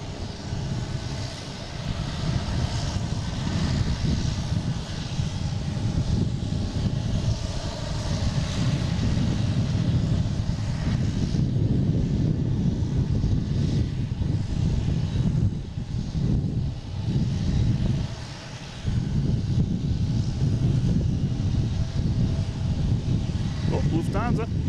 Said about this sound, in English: we got another plane coming in on 27, the JetBlue, coming in from San Juan.